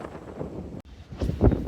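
Wind buffets a microphone during a walk along a canal in Cape Town, giving a steady low rumble that briefly drops out, then swells into stronger gusty bursts near the end.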